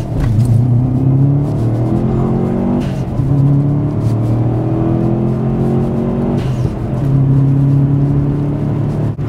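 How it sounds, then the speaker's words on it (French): A Subaru Impreza WRX engine with anti-lag turbo revs loudly and close, its pitch climbing in repeated rising sweeps that drop back and build again, with crackling pops mixed in. "une fois que t'as l'anti-lag, le régime moteur, t'as vu, il a augmenté"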